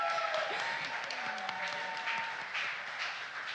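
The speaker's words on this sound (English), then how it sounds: "That's pretty cool that he gets a round of applause too" Applause fills a city council meeting chamber, a steady wash of clapping from the room lasting several seconds at moderate volume, with a voice briefly heard at the start.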